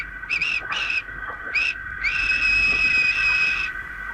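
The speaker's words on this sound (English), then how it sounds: "Thomas always whistles" Thomas the Tank Engine's steam whistle: three short bright toots followed by one long sustained blast, loud and close over a faint steady background.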